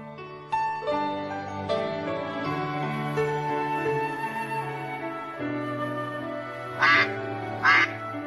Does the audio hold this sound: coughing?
no